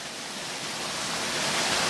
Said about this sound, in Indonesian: Cuma ini air terjunnya nggak begitu tinggi, teman-teman.